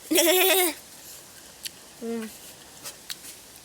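A person imitates goat bleats with the voice during a vegetable and berry tasting: one long, loud wavering bleat, then a shorter, quieter bleat, followed by a few faint clicks.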